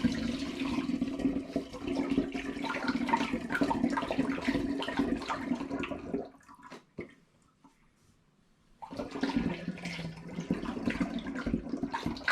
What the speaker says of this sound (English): It's just a case of adding the orange juice